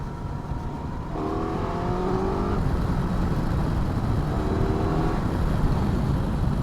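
Loud, close 152-horsepower Suzuki GSX 1000 GX motorcycle engine accelerating in third gear, its pitch climbing in two surges over a constant roar of wind and road noise.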